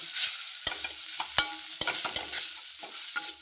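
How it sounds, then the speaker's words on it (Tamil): Green tomato skins are sautéed in a pan for tomato rasam, with a soft sizzle broken by several sharp, close clacks and scrapes of a spoon against the pan. "தக்காளி கரைச்ச அந்த தோலை போட்டு வதக்கணும்"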